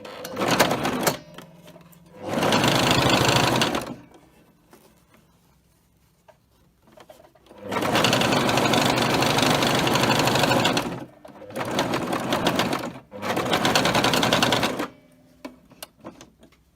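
Sewing machine stitching the side seam of a pleated fabric face mask, running in four distinct bursts of steady whirring separated by quiet pauses, close and fairly loud with no talk.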